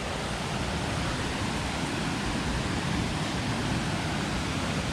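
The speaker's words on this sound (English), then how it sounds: "The portage in between Timberwolf and Misty Lake has an amazing natural waterfall." A natural waterfall at a portage between Timberwolf and Misty Lake in Algonquin Park gives a constant, even roar of rushing water. It holds steady throughout, with no speech.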